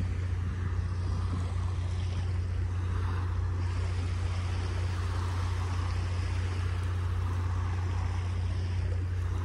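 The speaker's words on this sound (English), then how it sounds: "A few little waves rippling up on the shore." Small, gentle waves ripple onto a calm Gulf of Mexico beach shore in North Naples, Florida, a steady low wash with a deep rumble running throughout and no voices.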